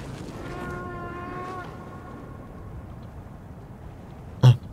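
Low, drawn-out moaning whale calls from the video game Brothers: A Tale of Two Sons ring out over a windy, icy game ambience, fading after a couple of seconds, with a brief sharp click near the end.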